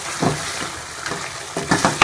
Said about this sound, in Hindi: दही को गोश्त के अंदर अच्छी तरह से मैं भून लूँगी